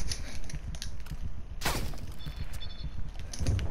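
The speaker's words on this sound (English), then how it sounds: "A sniper, I think, shooting at us." Sniper and rifle fire during a Call of Duty Cold War match, a steady crackle of distant shots with one sharp, loud crack standing out midway and no voices.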